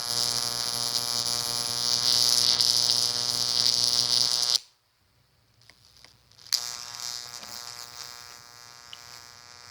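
Plasma arc buzzing loudly and close as it is drawn up, a steady electrical hum that cuts out for about two seconds and then resumes at the same pitch.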